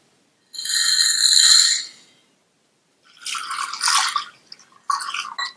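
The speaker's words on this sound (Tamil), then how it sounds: "ரெண்டு தடவை வாஷ் பண்ணிட்டு இதுல தண்ணி சேர்த்து ஊற வச்சுக்கலாம்" Water sloshes and swishes in a bowl as sago pearls are washed, in a few short bursts separated by silence, close and fairly loud.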